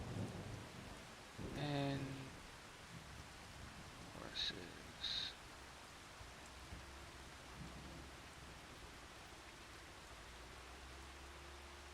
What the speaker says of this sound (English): It shows it is raining.